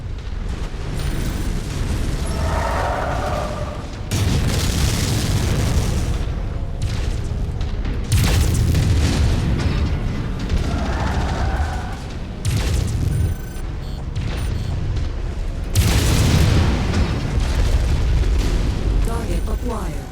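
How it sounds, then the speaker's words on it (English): Booming explosions of enemy mechs destroyed in a mech combat video game, heavy blasts recurring every few seconds over a dense, loud rumble of game effects and music. "Enemy mech destroyed."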